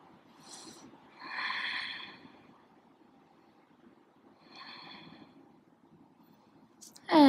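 Slow, deep breaths during a yoga pose in a moon salutation flow: a long airy inhale and exhale, a pause, then another softer breath cycle, close and quiet, ending with a sudden louder noise.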